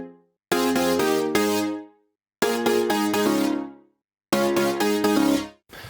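Sustained Logic Pro X synth and piano chords played in three loud, rhythmic phrases, each fading out into a brief silence before the next.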